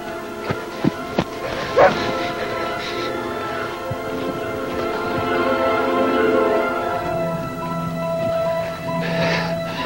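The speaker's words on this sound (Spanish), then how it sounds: "¡Los perros!" Dogs bark and yip in a forest at night, a few sharp barks early on followed by whimpering and drawn-out howling tones, with brief voices around them.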